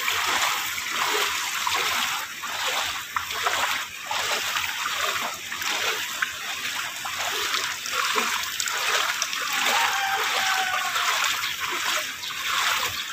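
Typhoon floodwater in a flooded housing subdivision in Marilao, Bulacan, splashing and sloshing continuously up close, with a steady churning trickle and no voices over it.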